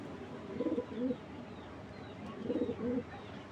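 Racing pigeons coo in two soft rounded bursts, low throaty rolling calls close by, with a pause between them and quiet room noise underneath.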